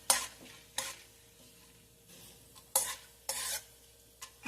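Chana dal fries in a pan while being cooked for mango rice, with several sharp scraping stirs of a spoon over a faint, steady sizzle, all fairly quiet.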